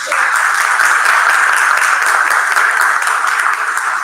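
An audience applauding at a seminar on youth socioeducation, with dense, steady clapping throughout that fades slightly at the close.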